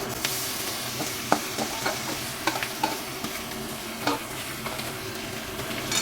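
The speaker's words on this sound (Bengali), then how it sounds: "এবারে আমি সেদ্ধ করা আলুগুলো দিয়ে দিচ্ছি।" Boiled potatoes for a masala aloo kachori filling being stirred in a frying pan: a continuous sizzle with repeated sharp scrapes and taps of a spoon against the pan, close and steady throughout, no speech.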